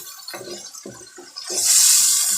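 Water is poured into a karahi pan of cooking potatoes and tomatoes, a loud hissing splash that starts after a few soft knocks and then continues steadily to the end.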